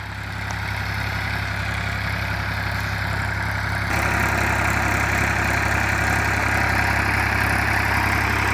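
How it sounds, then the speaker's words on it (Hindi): A tractor pulling a rotavator through a field gives a continuous, loud diesel drone with a steady low hum. The sound grows slightly louder midway and carries no speech. "ट्रैक्टर, रोटावेटर और ड्राइवर बहुत ही आराम से खेत को जोत पा रहे हैं।"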